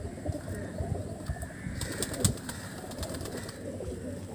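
Flying pigeons of a high-flyer breed, soft repeated cooing over a steady outdoor background hiss, fairly faint and continuous with no talk.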